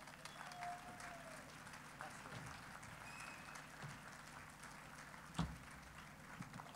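A crowd at an outdoor independence festival in Reus gives applause to welcome a speaker to the stage; soft, distant clapping forms a low steady patter under faint background murmur, with one sharper knock partway through.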